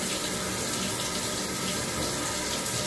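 Hot water runs steadily from a tap for a Great Dane puppy's bath, a loud, unbroken rushing hiss with no voices.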